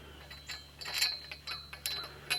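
A metal purlin bracket slid over a greenhouse bow pole, giving a series of short scraping clicks and light metallic knocks, close and fairly quiet, with brief pauses between them.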